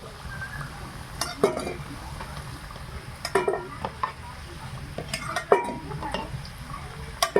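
Potatoes coated in salt and turmeric fry in hot oil, a soft continuous sizzle broken by clinking, scraping spatula strokes against the pan at irregular intervals, close by and without speech.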